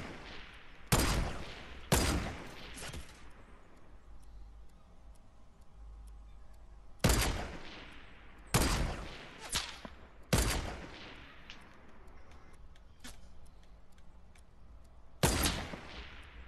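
Gunshots in the video game Fortnite during a 1v1 headshot match: sharp, loud single cracks, spaced apart in small clusters, with quiet gaps between them.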